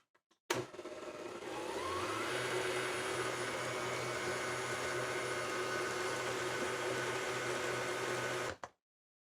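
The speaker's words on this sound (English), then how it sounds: "final go around with the mixer" An electric hand mixer whirs steadily through Toll House cookie dough, a close, constant motor drone that starts and stops abruptly, with no talking.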